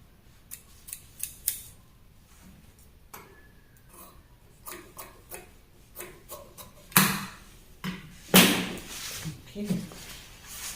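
Scissors trim rough fabric edges at a dress neckline, giving a run of crisp snips that starts light and scattered, then grows into louder, close, raspy cuts near the end.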